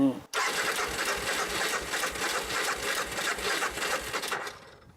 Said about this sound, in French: Moins de chute de tension, le moteur tourne très bien, c'est génial.